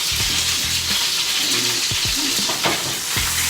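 Tuna steak sizzling in hot oil in a pan, a loud, close, continuous crackling hiss with soft scraping and stirring bumps as the fish is moved around.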